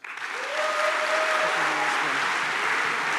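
A conference crowd at a Python lightning talks session breaks into loud applause, swelling quickly into dense sustained clapping, with a faint voice rising briefly underneath.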